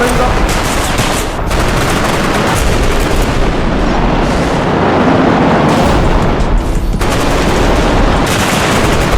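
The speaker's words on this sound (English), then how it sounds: "I'm talking about a full rework with gunshots." Gunfire in the video game Bodycam: loud, dense automatic bursts and booming shots that run almost continuously, with a voice faintly mixed in.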